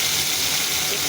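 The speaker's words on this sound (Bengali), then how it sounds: "একটু পানি দিয়ে দিলাম।" Water splashes into a pan of ground onion, cumin and garlic paste, making a short, steady, close-up hiss that lasts only a moment.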